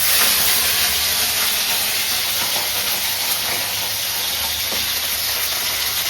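Hot oil sizzles loudly and steadily as a fish and greens curry cooks, a dense continuous hiss close by with no talk.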